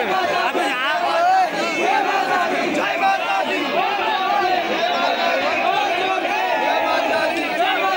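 Dense crowd at the Nanda Devi Dola procession, many voices chattering and calling out at once in a loud, continuous hubbub.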